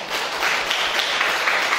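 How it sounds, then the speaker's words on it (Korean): A church congregation gives welcoming applause for visiting travelers during Sunday Mass, a dense, steady wash of many hands clapping together, sustained and even for the whole moment. "우리 여행 오신 분들 우리 환영하는 박수."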